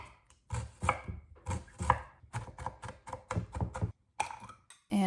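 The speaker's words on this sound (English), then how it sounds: "I finely diced the shallot" A knife finely dices a shallot on a cutting board, rapid rhythmic chopping taps close up in short bursts with brief pauses between.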